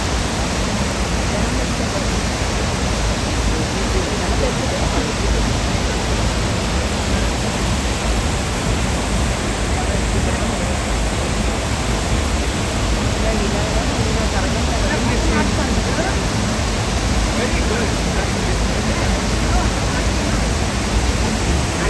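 A waterfall at the Bali swings roars steadily and loudly for the whole stretch, a dense, unbroken rush of falling water with no pauses.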